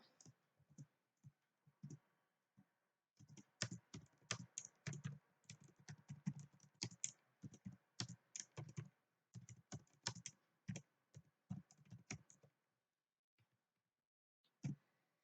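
Keystrokes on a computer keyboard while a C program is written, a close, quiet burst of rapid clicking taps in irregular clusters, pausing briefly, then trailing off into a few scattered keypresses.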